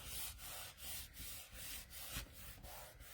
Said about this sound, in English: And I'm burnishing in the adhesive.